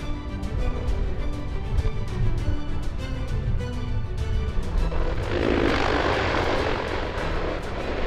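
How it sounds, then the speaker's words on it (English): A Fairchild C-123 aircraft landing at Eindhoven in strong crosswind, its broad engine roar steady and loud throughout, with a rushing, brighter surge of noise building in the latter part. "this Fairchild C-123 nearly suffers a wingtip strike after landing in strong crosswind conditions."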